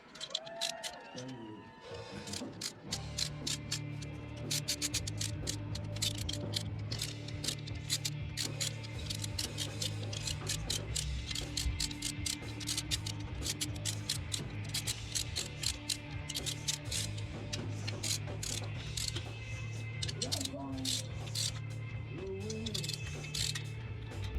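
A ratchet tightens clutch bolts on a 2003 Yamaha YZF-R1 engine, giving close, repeated rapid clicking over a constant mechanical hum for the whole stretch.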